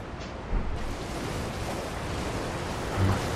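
Steady, dense roar of a waterfall near a cave in Elden Ring Shadow of the Erdtree, a continuous broadband rush of falling water with a slight swell near the end and no voices.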